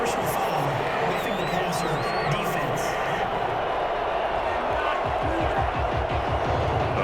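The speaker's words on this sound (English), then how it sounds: "This crowd does not like that call." A simulated stadium crowd in the Madden 21 American football game on PS5 roars and murmurs in disapproval after a roughing penalty, a dense, continuous wash of crowd noise with voices mixed in toward the end.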